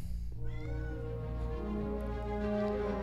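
A cat meows in long, drawn-out, wavering cries, close and fairly quiet, sustained for about three seconds with no talking.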